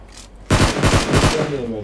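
Video game gunfire: a loud, close burst of rapid automatic shots, about half a dozen cracks in quick succession, fading into a short tail, with people talking around it.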